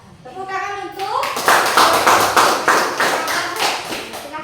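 In an Indonesian classroom, students clap in a rhythmic group pattern after a group presentation, loud and close, with repeated bursts running to the end; a voice is heard briefly before the clapping starts.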